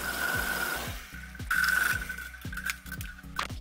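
Steel shelving is sawn by hand inside a small janitorial closet, a rapid run of rasping metallic strokes with a sharp ringing squeal, loud and close in the confined space.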